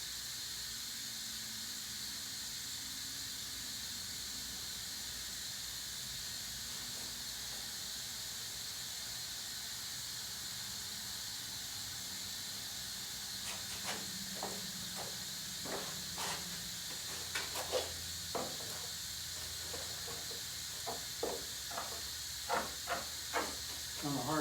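A spray gun hisses steadily as it lays a coat onto a Lamborghini Aventador front fender, a faint continuous spray with short sharp bursts toward the end.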